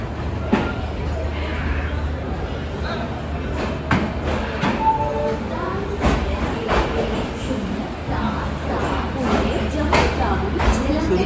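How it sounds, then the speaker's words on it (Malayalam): Train pulling out of New Delhi railway station, a steady low rumble and wheel clatter close by with rail clicks, and people talking over it. "കറക്റ്റ് 9:10 തന്നെ ന്യൂഡൽഹി റെയിൽവേ സ്റ്റേഷൻ ഇതാ ട്രെയിൻ എടുത്തു."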